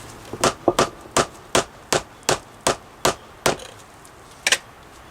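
A rubber hammer taps retaining wall blocks of the Vers-Lok type, about a dozen sharp, dull knocks at a steady, unhurried pace, a couple landing as quick doubles, close by and with no talking.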